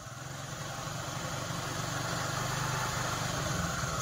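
A vehicle engine idles nearby with a steady low rumble and faint vibration, constant and alone without any voices.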